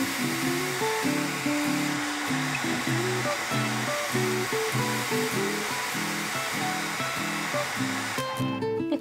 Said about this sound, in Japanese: ドライヤーを使って乾かします。